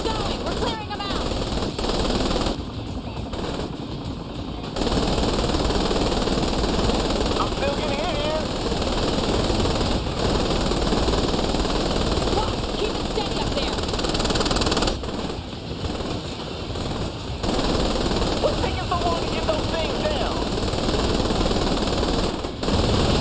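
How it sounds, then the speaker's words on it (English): Helicopters and gunfire in Saints Row The Third Remastered: a continuous rotor and engine drone runs beneath bursts of rapid automatic fire that come and go in several clusters, with game sound effects layered over it. "Once the helicopters are on fire, you don't need to shoot at them anymore. They'll go down on their own."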